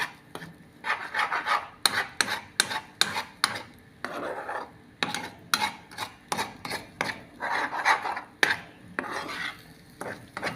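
Eggs with pepper and salt being scrambled in a pan: a rhythmic series of scraping, rasping strokes of a utensil against the pan, close and fairly quiet, repeating in quick clusters with brief pauses and no talk.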